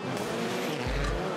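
A rallycross race car at Spa Francorchamps roars past close by, tires squealing and skidding briefly near a wall, loud and dense with engine noise.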